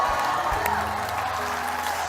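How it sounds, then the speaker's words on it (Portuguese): Congregation applauding the Lord during a church sermon, a steady wash of many hands clapping at moderate distance with a low crowd murmur underneath and no talking over it. "Vamos aplaudir o Senhor?"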